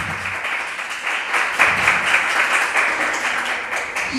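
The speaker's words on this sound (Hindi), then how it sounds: "ताली बजाइए वचन के लिए।" A church congregation applauding during a youth service at Charis AG Church, a sustained wash of many people clapping at moderate loudness, swelling slightly midway.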